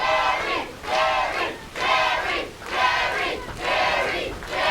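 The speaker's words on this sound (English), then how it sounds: "Fans cheering for Jerry." A wrestling crowd at a Memphis Wrestling event cheers in loud rhythmic surges, about five swelling chant-like waves of massed voices in quick succession.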